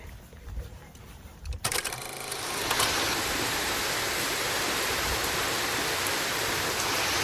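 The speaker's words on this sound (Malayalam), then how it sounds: "മൊത്തത്തിൽ മഴയാണ് കേട്ടോ കാറ്റാണ് കാറ്റ് ഭയങ്കരമായ ഭീകരമായ കാറ്റും അടിച്ചുകൊണ്ടിരിക്കുക" Heavy rain and strong wind arrive after a quieter opening. A dense, loud roar of rainfall starts up and holds steadily to the end.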